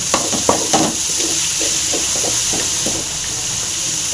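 Potato and onion masala for puri frying and being stirred in a pan, a steady close hiss of sizzling with occasional scraping stirs throughout.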